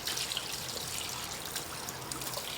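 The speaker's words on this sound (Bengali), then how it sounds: "আমি এখন মুখটা ধুয়ে ফেলি" Tap water trickles steadily while a face is rinsed clean after a deep-cleansing skincare routine, a continuous close splashing hiss with no voices.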